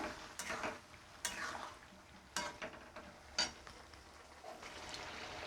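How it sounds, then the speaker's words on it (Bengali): A spoon scrapes and clatters against a pan several times at irregular intervals while a soya chunk and potato curry, just loosened with a splash of water, is stirred, with a faint sizzle beneath. "একটু জল দিয়ে দিলাম দিয়ে নাড়ছি ভালো করে"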